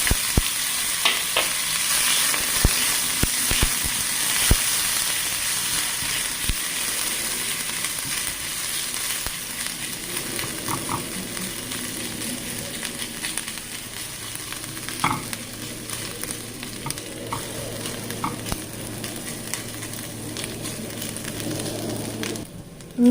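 Finely chopped ginger fries in a pan as the base for an onion curry. A continuous close sizzle runs throughout, broken by scattered stirring clicks and scrapes, with no one speaking.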